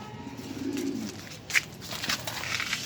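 Pigeons coo softly in a low, murmuring burst, followed by faint shuffling and a brief sharp chirp nearby.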